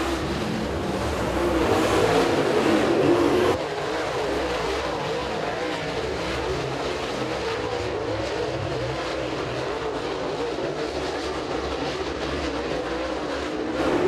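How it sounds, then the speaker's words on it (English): Super late model race cars roar around Eriez Speedway during a heat race, a sustained, dense engine drone from several cars that is slightly louder at first and then holds steady. "Car's pretty well sped out here in heat race number 1"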